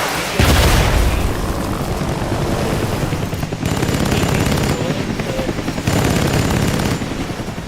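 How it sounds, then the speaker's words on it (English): Rapid automatic gunfire and booming blasts from a firefight between enemies in the video game Death Stranding, loud and sustained throughout with dense bursts and no talk over it. "if you get shot by the gunfire of them fighting each other, then they'll hurt you"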